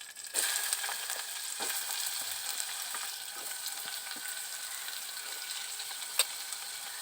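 Onions hiss and crackle in oil in a pan for a curry, a continuous close sizzle with faint scraping of a stirring spoon and one sharp clink near the end.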